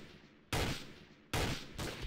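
Two loud bursts of gunfire from the video game Trouble in Terrorist Town, each a short rapid volley, the second followed by another quick burst, with no talking over them.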